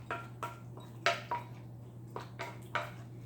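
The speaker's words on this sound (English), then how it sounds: "I'm going to stir this up here. Get that dry sauce all wet." A spoon stirs chili in a pot to wet the dry sauce mix, giving about eight separate scraping knocks against the metal in an uneven rhythm over a steady low hum, with no talk.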